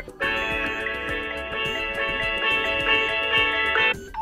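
A ringtone playing from a Samsung Galaxy A52s phone, a sustained, rich synthesized melody with a steady pulsing rhythm that runs loud and continuous for about four seconds before cutting off.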